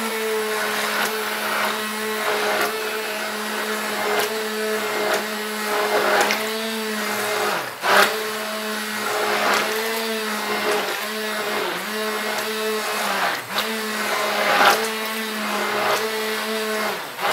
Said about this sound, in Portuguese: Dá uma mixada. Bater um pouquinho só.